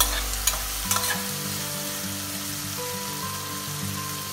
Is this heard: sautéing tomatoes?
yes